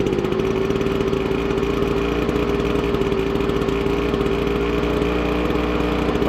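A small two-stroke leaf blower engine that had refused to run catches and keeps running, a steady close buzzing drone at even throttle throughout.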